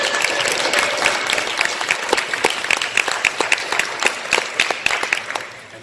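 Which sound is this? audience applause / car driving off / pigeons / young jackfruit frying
audience applause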